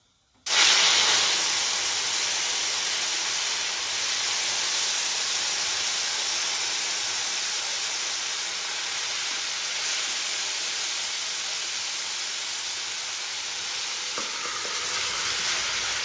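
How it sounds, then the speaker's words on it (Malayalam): Mustard seeds splutter in hot oil for Kerala-style kappa puzhukku (mashed tapioca), a loud continuous sizzle that starts abruptly and holds steady for about fifteen seconds, with no talk. "കടുക് ഒന്ന് പൊട്ടട്ടെ"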